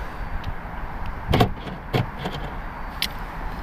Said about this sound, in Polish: A jak zamknę samochód, uwaga, zamykam.